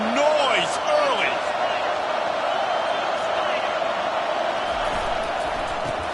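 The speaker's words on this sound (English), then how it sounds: "This crowd bringing the energy and noise early." A football game crowd roars in a steady, dense wash of noise, with a few whoops and shouts rising near the start. The roar stays loud and continuous throughout.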